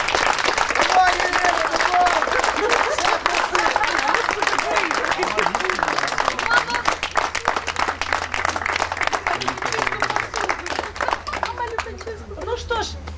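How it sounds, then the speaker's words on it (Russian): Wedding guests clap for the groom's mother, a lively burst of close applause mixed with chatter and voices, thinning into scattered claps near the end. "Аплодисменты нашей свекрухи."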